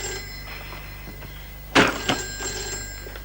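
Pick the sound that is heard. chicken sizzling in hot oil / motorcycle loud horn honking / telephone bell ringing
telephone bell ringing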